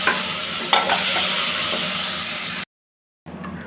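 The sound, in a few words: onions and tomatoes being sautéed and stirred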